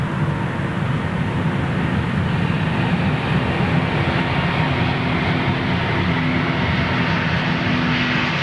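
An Airbus A321neo at Heathrow gives off a steady, fairly loud engine rumble and broad jet roar that holds evenly throughout, with no talking heard.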